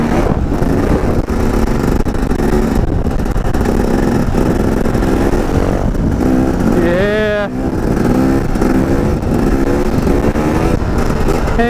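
Motorcycle engine revving loudly during a wheelie, a sweeping rising-and-falling engine whine over steady roaring road noise, close and continuous.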